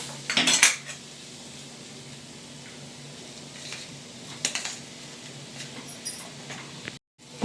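Chicken fried rice masala being stirred in a pan, a metal spoon clinking and scraping against the pan in a few sharp bursts over a steady low background.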